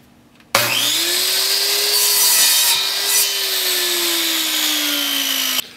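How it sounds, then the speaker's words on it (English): A chop saw spins up and cuts through a glued wooden tool handle in one sustained whining cut. The motor pitch sags slightly under load, then stops abruptly. The sound is loud and close, with no other sounds. "One quick trip to the chop saw, take off maybe a 1/16 of an inch here."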